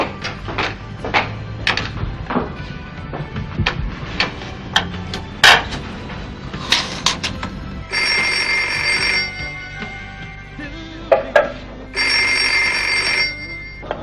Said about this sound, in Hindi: रक्षी बेटे देखना किसका फोन है।